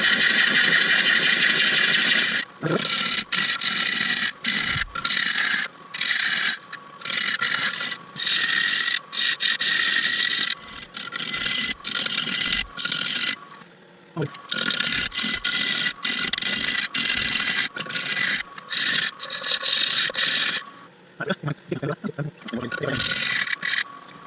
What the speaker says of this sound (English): I've used my round nose scraper on a downward angle just to cut it round